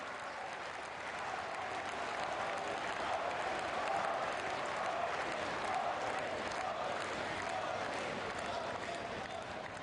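Sustained applause from a large crowd welcoming Prime Minister Modi at a public event in Gandhinagar, Gujarat, a steady wash of clapping held at an even level for about ten seconds.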